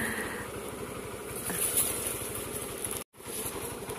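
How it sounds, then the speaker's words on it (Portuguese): Motorcycle engine running close by, a steady low rhythmic putter with a brief cutout near the end, outdoors on arrival at a wooded spot. "Minha esposa tá botando a moto aqui."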